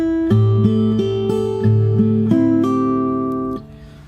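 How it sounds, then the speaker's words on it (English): Solo fingerstyle acoustic guitar plays the second bar of a song, with a held fretted note and hammer-on notes over a ringing low bass, evenly paced and close, ending in a brief fade. "So that 2nd bar sounds like this."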